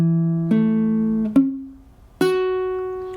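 Three single plucked notes on a baritone ukulele, fretted as part of a barre chord, each ringing and decaying in turn, close and clear with no talk.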